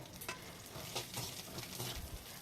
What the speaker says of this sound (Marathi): लाल मिरच्या व लसूण यांना छान असं भाजून घेऊया